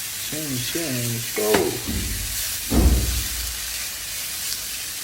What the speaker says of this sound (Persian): یه سینه مرغی بچه‌ها داخل پیاز خوب تفتش میدین تا رنگ مرغ طلایی بشه